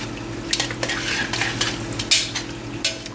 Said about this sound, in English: I'm going to stir those around just to, again, bring those bits off the bottom of the pan